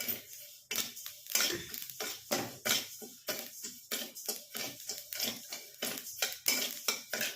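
Quinoa roasting in a pan while being stirred continuously, a steady run of scraping spoon strokes and dry grain rattles against the metal, close and fairly loud, with no talk.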